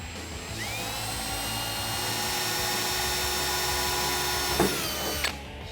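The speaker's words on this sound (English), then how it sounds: "now we're going to take our drill with our 3/32 drill bit," A power drill with a 3/32 bit bores holes in the fender of a 2014-2018 Chevrolet Silverado 1500, a steady high whine running for about five seconds before winding down, close and loud.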